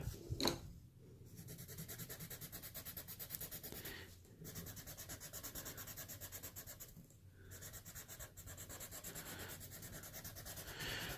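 A Prismacolor colorless blender pencil rubs quickly back and forth on paper, making close, steady scratchy strokes in long runs broken by brief pauses.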